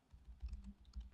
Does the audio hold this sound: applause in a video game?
no